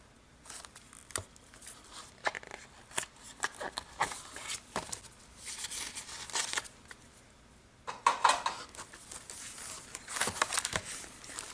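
A 6x6 paper pad of 24 double-sided prints has its plastic wrapping sliced open, giving close, intermittent crinkles, scrapes and cutting sounds in a quiet room.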